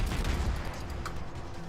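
Warship guns fire in the video game World of Warships, a heavy salvo rumbling loudly at first and then fading into a lower roll of distant booms.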